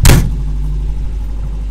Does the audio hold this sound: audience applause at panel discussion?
no